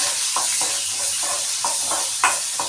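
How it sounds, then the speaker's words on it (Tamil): Two large onions sizzle and fry in a pan for Indian puri masala, with a steady hiss broken by repeated stirring scrapes, close and fairly loud with no talk. "2 பெரிய வெங்காயம் நல்லா வதங்கட்டும்."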